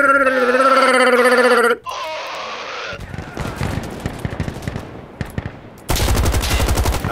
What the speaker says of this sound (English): Dude, I'm shooting somebody.